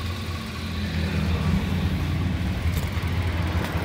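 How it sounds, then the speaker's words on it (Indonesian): A 2016 Toyota Avanza E with a manual gearbox idles steadily, its engine hum low and constant at close range with no one speaking over it. "nah mesin nyala ya"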